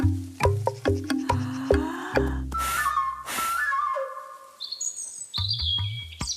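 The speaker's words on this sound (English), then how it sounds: "A robin." Cartoon bird calls: a run of short, bright synthetic chirps and whistles with clipped tones and a couple of noisy bursts, then higher gliding whistle notes near the end, loud and close.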